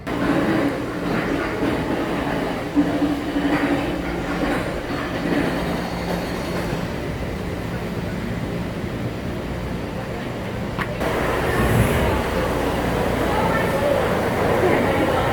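The Loch Ness Monster roller coaster train at Busch Gardens Williamsburg rolls along its track with a steady rattling, clacking rumble that grows louder near the end, while a voice talks over it.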